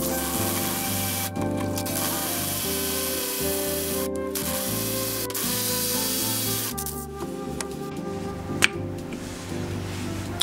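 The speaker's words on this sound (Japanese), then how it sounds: "続いてこちらで真ん中に穴を開けていきます" Drill boring through the centre of an epoxy resin and wood piece meant for a necklace, a steady motor whine with changing tones as the bit bites, broken by a few short stops and one sharp knock near the end.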